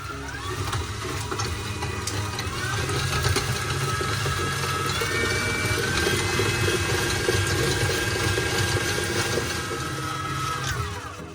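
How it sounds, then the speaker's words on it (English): An electric mixer beats unsalted butter and coconut oil for banana bread, its motor whirring loud and continuous with a slightly rising pitch. No talking is heard. "we're going to mix the unsalted butter and coconut oil till it's nice and homogeneous"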